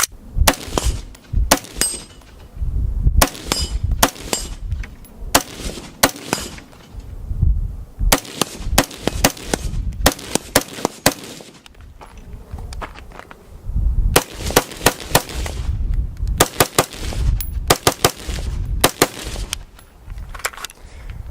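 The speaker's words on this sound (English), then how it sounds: "Aero Precision M4E1." A semi-automatic Aero Precision M4E1 rifle fitted with a Vortex Viper scope fires sharp, loud shots in irregular bursts and singles, each crack followed by a brief ring-out, with short pauses between strings.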